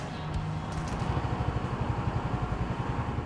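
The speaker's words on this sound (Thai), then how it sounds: "อยากให้ลองฟังเสียงตอนสตาร์ทรถนิดนึงนะคะ" A Yamaha Fazzio hybrid scooter engine starts and idles with a soft, steady pulsing putter, low and even throughout.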